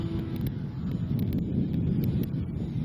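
Steady, loud wind buffeting the microphone at a radio-controlled model airfield during an E-flite Piper Cherokee flight, a continuous low roar filling the whole stretch with no clear breaks.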